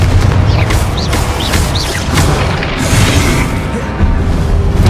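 Confringo blasting spells in Hogwarts Legacy detonate in a dense run of booming explosions over steady battle noise, loud and close, with faint voices mixed into the chaos.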